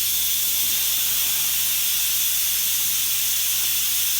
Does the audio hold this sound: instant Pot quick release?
yes